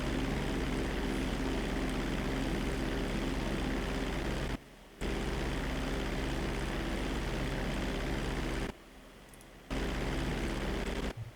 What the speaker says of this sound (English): I can barely hear you. The engines are so loud.